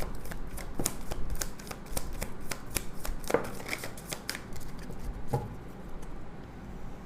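Tarot cards shuffled and flipped during a reading, a run of crisp papery riffles and slaps, irregular and close, with no talk over them.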